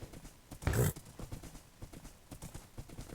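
Horse hooves clop in a video game, a short burst of clip-clop near the start, with faint background sounds and light game noise around it.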